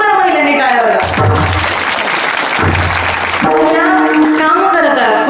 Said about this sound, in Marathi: जोरदार महिलांनी टाळ्या वाजवा.